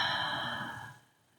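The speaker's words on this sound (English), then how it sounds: "taking a deep breath in" A single long, audible breath drawn in, close and soft, fading into near silence.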